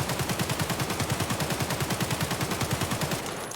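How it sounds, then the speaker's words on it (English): Sustained full-auto burst from an AK-74N rifle fired at a wall in the video game Escape from Tarkov, a rapid, even stream of loud close shots lasting over three seconds before stopping, with no talking. "I'm just going to shoot like at that wall down there"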